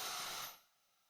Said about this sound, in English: So let's take like 2 deep breaths together